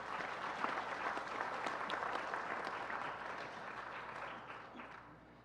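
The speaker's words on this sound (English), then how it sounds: "give them a big round of applause for their efforts" Sustained applause from a large audience at a Hindu temple religious discourse, a soft, even roar of many hands clapping that continues for several seconds before gradually fading.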